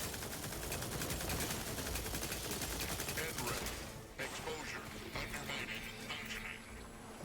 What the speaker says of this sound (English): As long as I have ammo of any kind, this weapon can keep shooting.